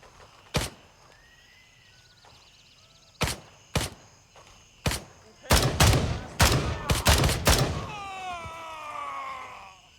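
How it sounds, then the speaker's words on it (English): Gunfire in the tactical shooter Gray Zone Warfare: single sharp shots spaced out at first, then a quick cluster of several loud cracks, with a faint voice trailing afterward. "What was he shooting at?"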